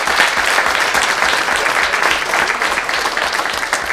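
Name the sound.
audience applauding district robotics champions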